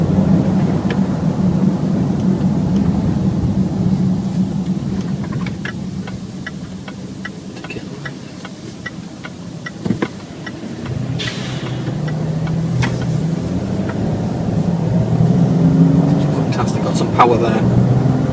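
A 3-litre SD V6 Range Rover Sport HSE rolls over a bumpy road, its low cabin rumble and road hum continuous, with a small jolt midway and someone talking over it.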